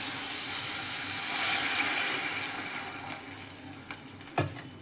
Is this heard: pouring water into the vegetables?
yes